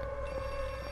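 A phone rings in the horror video game Outlast II, a steady electronic ringing tone sustained through the whole moment at moderate level over a low game ambience.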